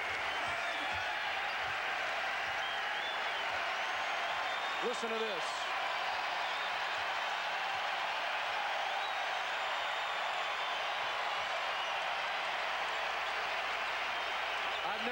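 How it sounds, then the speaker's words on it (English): Arena crowd in Washington roars in a sustained standing ovation for Michael Jordan at his final home game there, a dense, unbroken wall of cheering that runs the whole time while commentators talk over it. "They're still cheering Jordan here in the nation's capital."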